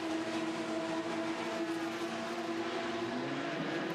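Le Mans race car number 36, driven by Nico Lapierre, pulls out of the pits with a steady engine drone and a slowly shifting pitch, moderately loud with no talking over it.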